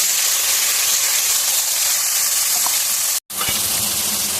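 Spices are tipped into chopped onions already fried red in hot oil, a loud continuous hiss and sizzle close by that briefly cuts out and then resumes with faint stirring knocks, no speech.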